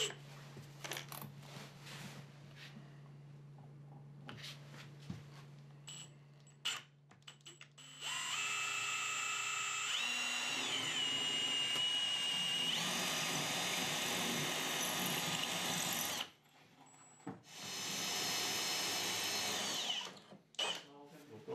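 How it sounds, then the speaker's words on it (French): A power drill fitted with a universal bit bores into PVC tiles and cement board, whining in long, loud bursts with pitch shifts as it bites, separated by brief pauses, clicks and handling noises. "on utilise une mèche universelle qui peut facilement percer tous ces matériaux"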